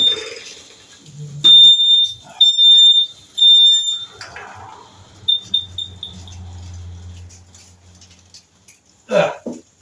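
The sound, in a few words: smoke alarm beeping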